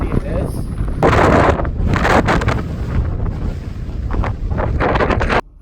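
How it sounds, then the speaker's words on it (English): Strong gusting wind buffets the microphone on the open salt flats of Badwater Basin in Death Valley, a loud, continuous roar that surges and dips for several seconds before cutting off abruptly. "So that just gives you an idea of how windy it is."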